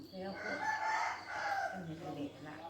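A rooster crows once in a long, wavering call at moderate distance, with faint background noise around it.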